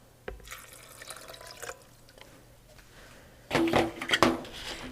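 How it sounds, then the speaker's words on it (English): About 200 millilitres of water pour into a blender holding canned corn, a brief close splash and gurgle after a quiet lead-in with small clinks. "You're also gonna wanna add 200 milliliters of water."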